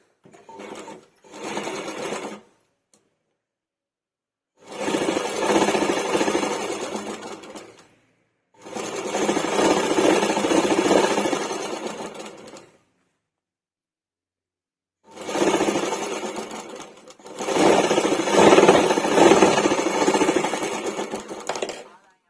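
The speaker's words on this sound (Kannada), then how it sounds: "ಮೊದಲು ನಾವು ಇದನ್ನು ಸ್ಟಿಚ್ ಮಾಡ್ಕೋಬೇಕು." A sewing machine stitches the front piece of a blouse being altered to loosen the cups, running in four loud bursts of steady whirring with near-silent pauses between them.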